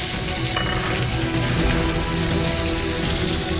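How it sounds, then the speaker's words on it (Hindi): A tadka tempering crackles and sizzles in hot oil, a loud, close, continuous frying hiss with stirring, with no talking over it. "अब जाकर लगा मस्त तड़का."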